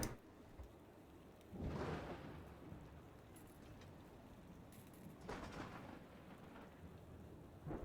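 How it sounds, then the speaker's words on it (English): Rain hisses steadily in the Parkitect theme park game, and two low thunder rumbles swell and fade partway through. The whole scene stays faint and distant. "Can it not rain and thunder for like 1 day?"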